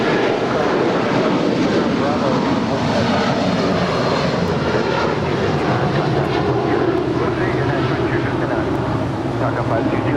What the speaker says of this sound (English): That was United 2259 departing to Newark Liberty, a 27-year-old 757-200